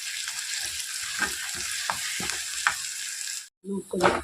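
Chana dal paste sizzling and frying in a kadai while being stirred, with steady hiss and intermittent scraping knocks of the spoon, close and continuous, ending in a brief pause and a few louder scrapes.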